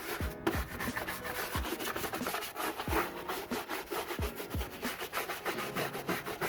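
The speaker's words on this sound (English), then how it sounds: "I'm just gonna brush it in, let it work some more." Brush scrubbing the engine bay of a Dodge Charger 3.6L, with steady rhythmic back-and-forth rubbing strokes, close and fairly quiet, no talking.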